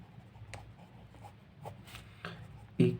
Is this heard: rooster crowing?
no